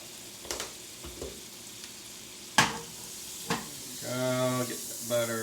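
Yellow squash frying in butter in a pan, a steady sizzle broken by sharp clatters and tosses of the pan, with louder hissing bursts toward the end.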